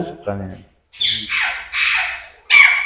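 Young yellow Alexandrine parakeets at a bird breeding farm let out several loud, harsh squawks in quick succession, close by, with a short low call before them.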